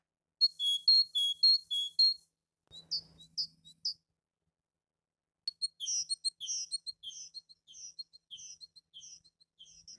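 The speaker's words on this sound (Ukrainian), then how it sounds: "Синичка цвірінькає" Bright, high-pitched chirps from a tit come in quick repeated bursts, pausing briefly, then resuming as a lively run of short tweets. No voices.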